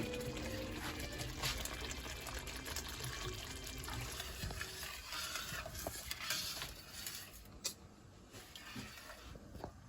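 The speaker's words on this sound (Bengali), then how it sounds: "এখন আমি সামান্য জল দেবো।" Water poured steadily into a pan of Hyderabadi brinjal curry (bagara baingan), a continuous close trickle and splash lasting several seconds with no talk.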